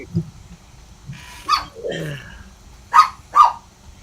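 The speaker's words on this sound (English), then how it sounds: "All that barking." A dog barks several times, sharp separate barks spread across the moment with a low growl-like sound between them, fairly close.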